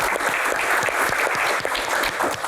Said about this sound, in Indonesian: Tepuk tangan dulu untuk box ini